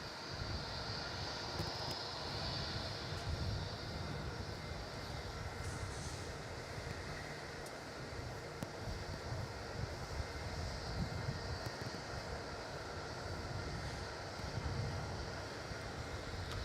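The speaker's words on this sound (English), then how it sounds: "That was immediate takeoff, China Southern." A China Southern airliner takes off at Melbourne Airport, its engines a distant, steady rumble and roar that holds for a long stretch at low level without talk.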